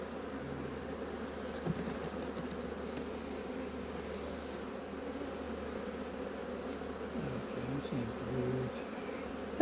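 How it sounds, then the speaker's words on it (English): Honeybee buzzing right up against a phone in a homestead beehive yard, a steady close drone with slight wavering pitch that holds throughout, fairly quiet and alone. "And there's a bee on my phone right now."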